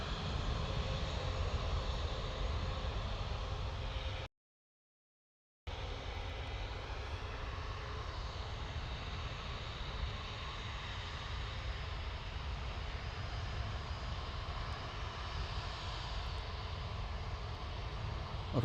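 EasyJet jet airliner departing Manchester Airport, a sustained engine roar running steadily across the stretch, broken once by a short dropout, moderately distant and unaccompanied by talk.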